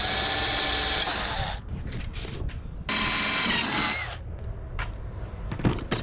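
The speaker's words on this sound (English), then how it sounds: "So just drill me a 3/16 hole for each one of these." Power drill boring a 3/16 hole through a speaker enclosure for binding posts; a loud whining drill run, a short pause, then a second burst, close up.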